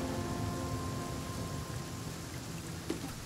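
Steady rain in the survival video game The Flame in the Flood, a continuous dense patter with a brief faint knock near the end, no voices.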